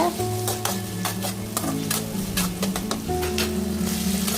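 Small onions and curry leaves sauté in a pan for a crab masala, giving a steady, close sizzle with repeated quick scraping strokes of a spoon against the pan.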